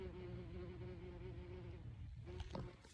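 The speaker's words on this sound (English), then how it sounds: "There's a bee." A bee buzzing close by outdoors, a steady droning hum that holds for a few seconds before breaking up into brief rustles.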